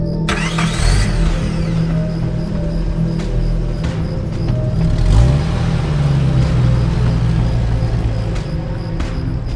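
A car pulls away with a loud, steady engine rumble and a rising whine about midway, continuous throughout with no speech.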